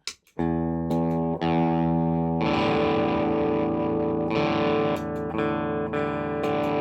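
Epiphone SG 400 guitar driven through a Tantrum distortion pedal and Klon, a run of loud distorted chords changing every second or so, sustained and close without speech.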